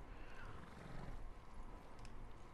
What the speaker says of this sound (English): This black horse will be with you for the entire game